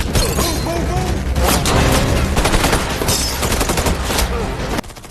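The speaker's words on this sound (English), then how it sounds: "the quiet night erupts with gunfire" Loud, dense bursts of gunfire crackle nonstop, rapid overlapping shots with booming reports, close and intense throughout.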